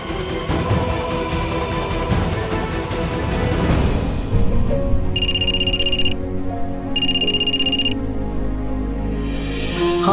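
A phone ringtone plays loudly under a dense musical score in a Hindi TV drama scene, with two clear repeated electronic ring bursts standing out over the music.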